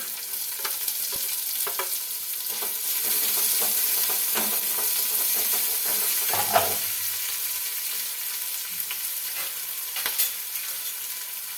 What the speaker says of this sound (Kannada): ಈಗ ಈರುಳ್ಳಿ ಕೂಡ ಹಾಕೋತಾ ಇದ್ದೀನಿ